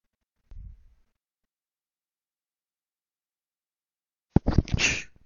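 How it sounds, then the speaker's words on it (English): A single sharp sneeze bursts out alone near the end after a long stretch of silence, preceded by a brief low thump, from a player of the Roblox game Prison Break. "I just sneezed."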